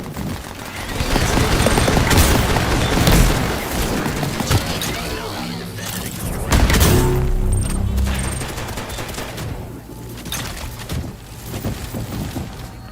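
Shotgun fire from a video game, dense bursts of blasts and mechanical clatter throughout, loud and close, fading into lighter game sounds near the end.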